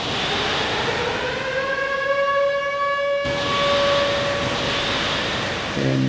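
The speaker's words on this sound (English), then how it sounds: "we heard the sirens." Civil defense air raid sirens wail steadily and loudly across open surroundings, a sustained tonal howl with slowly gliding pitch and no speech.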